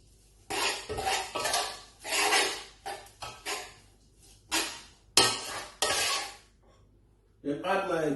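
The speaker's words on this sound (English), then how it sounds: "Mix it together." Rice noodles for a seafood-stick spring roll filling being mixed in a bowl, close and fairly loud, coming as a series of separate bursts of scraping and clinking with short pauses between them.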